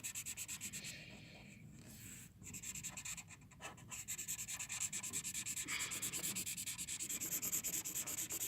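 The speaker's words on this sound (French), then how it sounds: "Donc nous continuons à colorier" A marker rubs across paper in steady back-and-forth colouring strokes, a soft continuous scratching with a brief break partway through, no voices over it.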